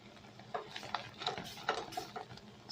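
A spoon stirs foaming pink cranberry sauce in a pot, giving soft, quiet scrapes and clinks in an irregular rhythm over a low bubbling hiss.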